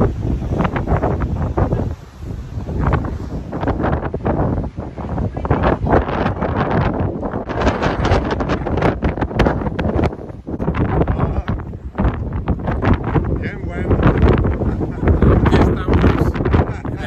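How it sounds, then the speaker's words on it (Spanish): Strong, gusty coastal wind at Cape St. Vincent, Portugal's southwesternmost point, buffets the microphone continuously, a loud roaring rush with rumbling bursts and a faint voice underneath. "Qué brisa tan fuerte."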